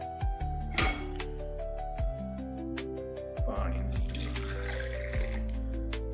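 Water trickles and splashes as it is poured into a container while making black coffee with honey, with clinks and soft kitchen noises under occasional voices.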